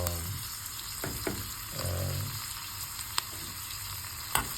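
Spices sizzle steadily in a hot pan for sambar, with a few sharp clinks and scrapes of stirring over the continuous frying hiss; no one speaks.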